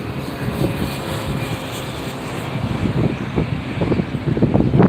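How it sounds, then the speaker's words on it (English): An Asiana Airlines Airbus A380-800 arriving at LAX from Seoul gives a broad jet roar that swells louder toward the end as it approaches. "arriving from Seoul, South Korea, an Airbus 380-800 series"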